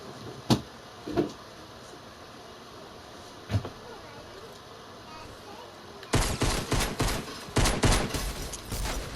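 In a video game, pistol fire starts with a few isolated sharp shots. Then a fast, loud volley of repeated shots fills the last few seconds.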